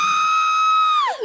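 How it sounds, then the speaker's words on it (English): Loud, sustained high-pitched scream sound effect played on a podcast, holding one pitch for about a second before sliding downward and cutting off. "that's the sound of my scream"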